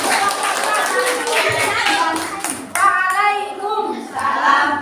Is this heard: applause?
yes